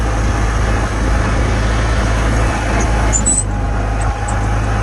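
Farmall Cub tractor plowing heavy snow after a blizzard, its engine a steady, loud low drone running without a break throughout, with no voices over it.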